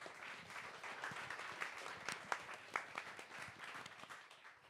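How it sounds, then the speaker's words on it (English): A summit audience applauding panelists, dense even clapping from many hands sustained for several seconds, distant and quiet as if heard across a hall. "So a round of applause for my panelists."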